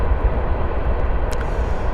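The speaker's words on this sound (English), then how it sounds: "The train doesn't bug me." Steady low rumble of a train passing at a distance, a continuous heavy drone with no breaks throughout.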